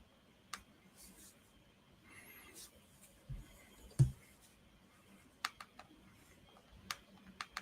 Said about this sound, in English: so I'm typing some stuff up right now